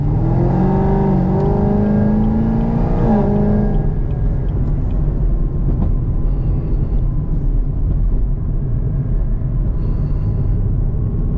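A tuned 900+ horsepower Camaro ZL1 on a drive, its engine droning loudly and steadily as it climbs through the revs, then a shift around four seconds drops the pitch before it pulls on continuously.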